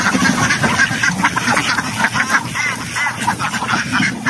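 Ducks let out of their pen into open ground quack continuously, a dense chorus of overlapping calls from several birds, close and fairly loud.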